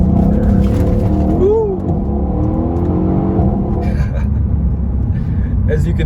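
A Mercedes-Benz E63 S AMG (W212) with an all-wheel-drive twin-turbo V8 accelerates hard out of a turn, its engine note rising and then settling into a loud, close roar while a voice whoops.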